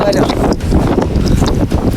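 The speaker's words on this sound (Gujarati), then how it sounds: "પવન એટલો છે" Strong wind on Girnar mountain near Junagadh buffets the microphone in a loud, continuous roaring rush.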